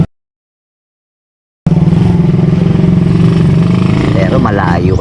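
After a moment of silence, a motorcycle taxi's engine abruptly kicks in and runs loud and close, a rough steady idle rumble with a faint rising whine near the end.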